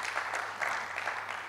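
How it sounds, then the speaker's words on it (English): A conference audience applauds a doctor, a brief steady patter of clapping hands, fairly close and even throughout. "let's give him another applause for doing that"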